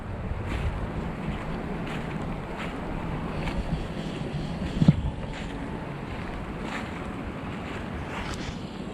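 Stormy wind gusting through woodland on a November day with hail showers, a steady broadband roar close to the microphone with buffeting wind noise and a brief louder knock midway.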